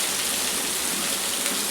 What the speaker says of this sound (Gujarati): આ કેટલા દિવસ પછી વરસાદ ભાઈ ભાર્યો છે